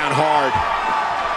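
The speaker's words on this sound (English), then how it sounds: "The elbow drop lands." Elbow drop landing in the WWE 2K18 wrestling video game, a single heavy thud just after a voice, with an arena crowd noise running steadily underneath.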